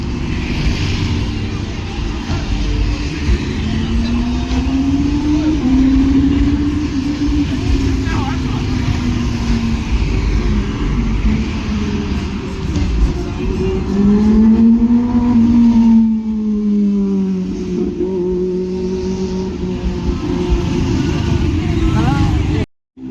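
Traffic on a busy street in Patong, Phuket rolls past as cars and motorbikes pass at close range, engines rising and falling in a continuous loud wash with someone talking over it.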